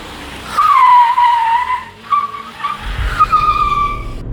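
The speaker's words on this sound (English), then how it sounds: "it makes all the right noises too. The turbo blow-off valve, the exhaust, it's all just so satisfying" A Tata Tigor JTP car being driven hard through bends, with loud tire squeal sweeping over engine and exhaust roar, a brief dip, then more squealing as the revs climb again.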